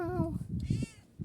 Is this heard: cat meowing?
yes